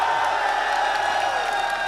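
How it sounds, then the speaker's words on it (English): A huge arena crowd at the Rocket League World Championship roars and cheers in a dense, steady wall of noise, loud and sustained with no break. "This is the greatest crowd I've ever seen in my whole career"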